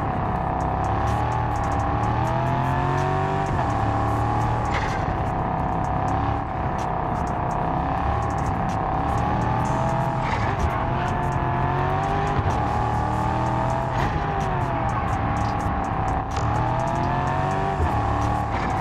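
Interior engine sound of a car in the Test Drive Unlimited video game, a loud, continuous drone with rising and falling revs throughout and no voices.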